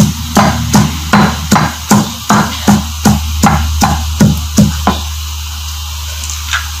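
Chilies pounded and crushed by hand with salt in a kitchen mortar, about fifteen heavy rhythmic thuds at a steady pace, close and loud, slowing and fading out toward the end.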